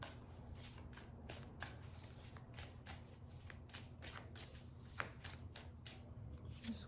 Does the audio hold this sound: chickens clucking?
no